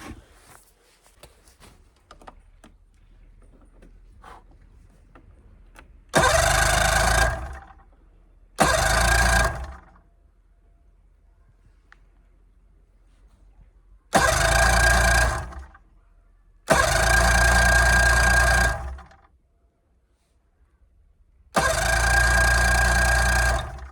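A snowmobile engine cranking in repeated loud bursts of a few seconds each, separated by quiet gaps with faint clicks, five attempts in all, close to the listener.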